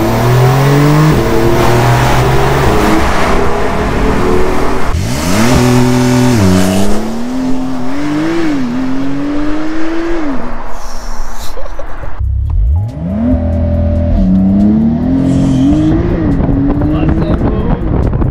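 A Porsche 992 Carrera 4S launches under launch control, its engine revving hard and climbing through several rising gear pulls with sharp shift breaks, loud and close throughout.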